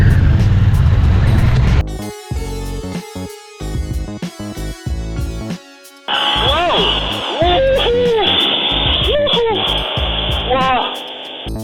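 A Harley-Davidson Sportster S engine revs while riding, rising and falling in loud sweeps over wind rumble. A rider talks over it.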